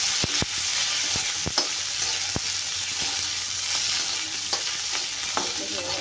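Green chillies roast and sizzle in a pan for a chutney, a steady hiss broken by sharp scraping clicks as they are stirred, close and fairly loud with no talking.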